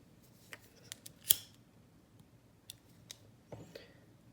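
Scissors cutting beading thread on an earring, a few quiet scattered snips with one sharper clip, close and otherwise quiet.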